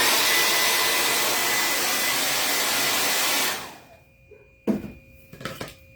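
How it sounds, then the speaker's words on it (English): A handheld blow dryer runs during a crafts project, with a steady loud whirring rush for several seconds that winds down and stops, followed by a few light clunks as it is set down. "Blow dryer again, one more time."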